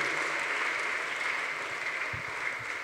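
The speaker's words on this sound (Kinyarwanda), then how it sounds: "Applaudissez pour le Seigneur." A congregation applauds during a church service: dense, steady clapping from many hands that carries on evenly throughout without pause.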